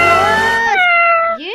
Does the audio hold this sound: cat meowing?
yes